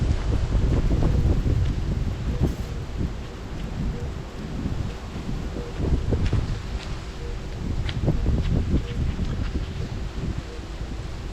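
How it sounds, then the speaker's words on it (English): Wind gusting across an outdoor garden, a steady low rumble of buffeting against the microphone that swells and eases throughout, with no talking. "It's pretty windy today."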